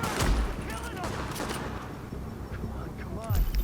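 Gunfire in Tom Clancy's The Division comes as sharp bursts near the start and again near the end, with a busy, rumbling combat bed in between.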